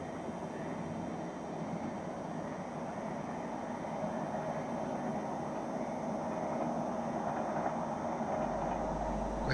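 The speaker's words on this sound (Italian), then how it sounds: "Notturno di Cervo ancora coi treni." A train passes at night in Cervo on the Riviera dei Fiori, a steady low rumble and rolling hiss that slowly builds and grows nearer across the stretch.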